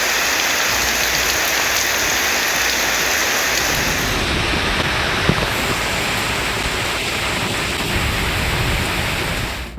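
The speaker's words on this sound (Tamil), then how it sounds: "நள்ளிரவு நேரத்தில் பலத்த காற்று மற்றும் இடி மின்னலுடன் மழை கொட்டியது." Heavy rain pours steadily at midnight during a storm with strong wind, a dense, continuous hiss of water striking surfaces, loud and unbroken throughout.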